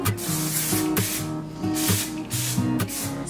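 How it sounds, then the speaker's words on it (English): A powdery hair product, not a dry shampoo, is sprayed onto hair sections: four or five short, close hissing spray bursts in a steady rhythm, each with a faint rattle from the shaken can, with no talk. "Spray each section, and then continue."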